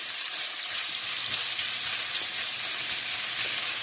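Chicken pieces sizzle steadily as they seal off in a hot pan for a Northern Indian masala chicken curry, a continuous close, even frying hiss with faint occasional pops and no talking.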